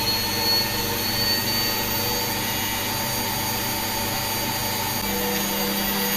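A washing machine motor whines steadily at high speed as the drum spins up toward 800 rpm, with a sustained hum and tonal whir, no voices, holding a constant level throughout.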